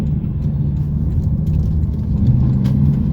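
A Porsche Turbo S flat-six rumbles steadily at close range, a loud, continuous low drone that swells slightly toward the end.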